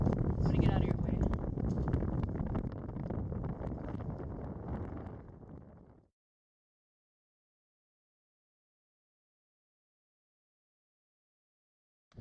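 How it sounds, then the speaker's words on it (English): Heavy, steady wind buffeting the microphone for about six seconds, with a voice faintly underneath, then sudden silence. "It's really windy."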